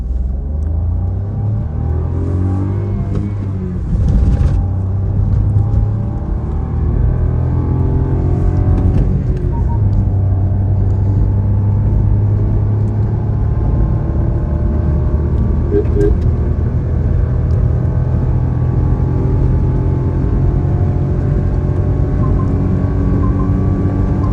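A 2025 Maruti Suzuki Swift automatic, manually shifted, accelerates at full throttle from inside the cabin, its engine droning steadily and climbing through gears with road rumble underneath and a person talking throughout.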